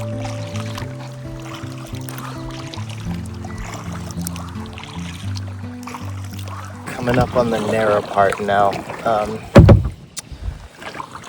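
A kayak is paddled through water on a rainy day in Minnesota, with rhythmic watery strokes and splashes close by, and someone talks over the paddling toward the end.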